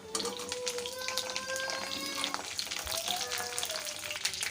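Cut eggplant and curry leaves frying in hot oil make a continuous busy sizzle and spatter, with a faint tonal whine running underneath; no one speaks.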